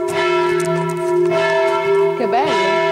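Church bells of the Saint Maurice church in Boujailles ring continuously, loud and close, with sustained overlapping tones and steady strikes throughout and no voices.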